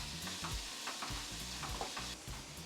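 Chopped onions and peas sauté in a pan with a soft, quiet sizzle, punctuated by faint scraping stirs of a utensil against the pan, with no talking.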